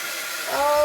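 A hair dryer blows a steady airy hiss across a mixed media canvas to dry the paint, rising in loudness partway through as its motor whine sharpens, heard close with no talking.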